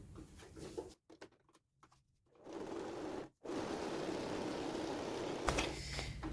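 Domestic sewing machine stitching a lining seam on a men's toiletry bag: a steady, close mechanical whir that stops and starts in short bursts early, then runs continuously until near the end, with no talk.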